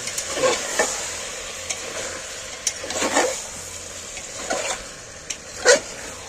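Mutton and potatoes sizzle in a pan while being stirred, a soft, steady frying hiss broken by several sharp scraping strokes of the spoon at irregular intervals, close and without speech.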